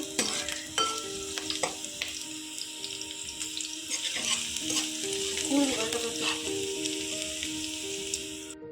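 Drumstick curry (mulakkaya) sizzling in a pan while being stirred, a dense continuous frying hiss with repeated scraping and clinking of the spoon, close up with no talking.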